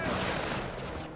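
Sniper rifle shots in a strategy video game, heard as a quick burst of dense, loud gunfire crackle over a brief moment with a voice faintly underneath.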